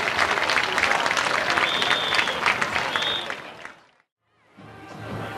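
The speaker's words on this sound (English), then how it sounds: "Give them a round of applause once again." Stadium crowd at a high school football game applauding senior participants, a broad steady roar of clapping with some cheering that cuts off abruptly, then a quieter background resumes.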